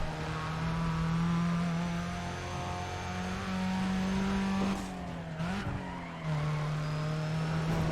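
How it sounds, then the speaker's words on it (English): A race car in Need for Speed: ProStreet on the final lap at the Nevada challenge drones at high revs with a steady engine whine, shifting pitch and briefly dipping before surging again as nitrous kicks in, with faint tire noise. "I'm gonna use my nitrous here."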